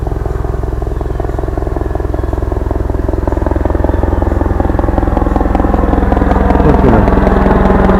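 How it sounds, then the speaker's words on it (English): A full-scale helicopter passes overhead on a calm evening in a yard, its steady rotor chop and engine drone loud and continuous, swelling slightly as it comes nearer, with no talking. "there's a big old chopper coming right overhead here."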